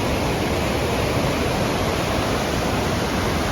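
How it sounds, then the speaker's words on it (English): A waterfall in Wells Gray Provincial Park seen from a South Rim viewpoint, a steady broadband roar of falling water that fills the whole clip without variation and with no voices. "It looks like the waterfall is right there."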